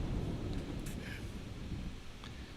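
Rain and distant thunder from a storm in the warship game Ultimate Admiral Dreadnoughts make a low, steady rumbling wash with hissing rainfall, quiet and continuous throughout, no one talking.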